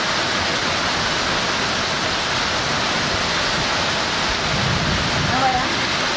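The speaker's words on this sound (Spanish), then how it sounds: "Seguro que han de caer 3 o 4 pulgadas de agua hoy." Heavy rain pours down in a dense, unbroken hiss that stays even and loud throughout, with a faint low rumble underneath.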